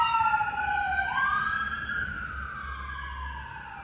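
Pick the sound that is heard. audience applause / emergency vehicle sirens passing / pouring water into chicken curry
emergency vehicle sirens passing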